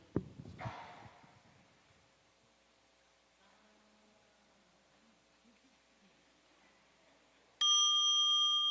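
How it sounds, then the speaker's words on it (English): A mindfulness bell rings once during a Dharma talk at a retreat, a clear sustained tone entering near the end after quiet room noise, following an earlier soft strike and rustle. "The sound of the bell fly together with me."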